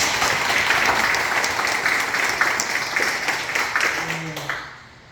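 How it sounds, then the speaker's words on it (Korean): A congregation at a Won Buddhist temple service claps in thanks, a steady round of applause that gradually thins and fades out near the end. "김덕균 교도님 공부당 오늘 해주셔서 다시 한번 감사의 박수를 보내겠습니다"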